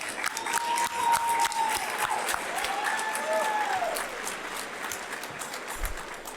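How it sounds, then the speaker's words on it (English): Guests at a 50th anniversary gala dinner applauding, a broad roll of clapping with a few sharp individual claps, moderately loud, with a faint tone and some voices audible underneath. "One more round of applause."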